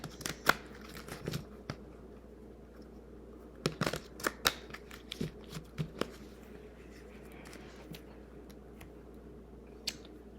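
Tarot cards are shuffled and pulled from a deck in quiet, close handling. Sparse crisp snaps and soft riffling clicks come in short clusters, separated by near silence.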